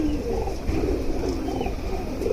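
Old-breed black-necked pigeons in a home loft coo steadily, a continuous low, fairly loud murmur of overlapping calls with no voices.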